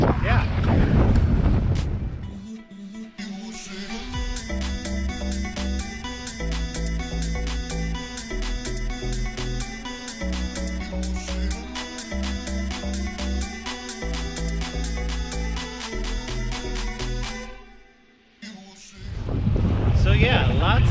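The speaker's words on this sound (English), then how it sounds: "this is what a dinghy ride and 20 knots of wind feels like when you have to run to shore really quick" Strong 20-knot wind roars and buffets the microphone during a fast dinghy ride to shore, a loud continuous rush with a steady outboard motor drone beneath it, easing briefly near the end.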